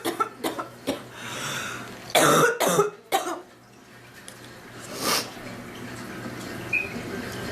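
A woman coughs in several sharp bursts, close by, with watering eyes and a struggling breath; a cluster of heavy coughs in the middle, then quieter rasps and a throat clear toward the end.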